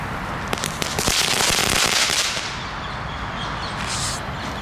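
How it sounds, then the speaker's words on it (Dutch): German crackling firecrackers (knetterrotjes) go off close by in a dense, continuous burst of rapid sharp crackles, loudest in the first two seconds and then thinning into a fizzing hiss. "Schijnt de beste knetterrotjes te zijn die ik kan krijgen"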